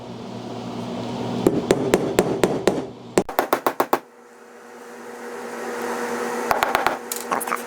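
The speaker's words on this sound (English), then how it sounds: "We'll give it a little love tap with a hammer." Sharp hammer taps drive roll pins into the trigger assembly of a Porter Cable FN250C 16-gauge finish nailer, a steady run of close, bright metallic strikes followed by a quick burst of several more, with a later cluster of lighter taps.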